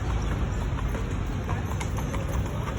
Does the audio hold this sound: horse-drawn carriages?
yes